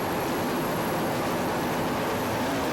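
Offshore racing powerboats from a 1988 Grand Prix off Freeport, New York run behind the pace boat, a loud, continuous engine roar with dense broadband noise and no break.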